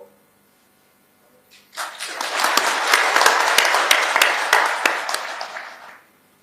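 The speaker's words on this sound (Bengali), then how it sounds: "এই হাততালি আপনাদের প্রাপ্য" A sudden round of applause from a large audience at a formal speech event honouring police officers swells quickly, holds strong with crisp individual claps, then dies away.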